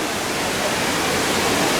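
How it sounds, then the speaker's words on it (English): A waterfall at Disney's Animal Kingdom roars in a loud, continuous, dense rush of falling water, close and steady throughout. "Love all the natural sound effects and all the waterfalls around here"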